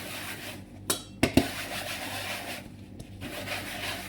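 Dishes and plates being washed in a kitchen: soft scrubbing and rubbing with a few sharp clinks of crockery knocking together, close up and fairly quiet.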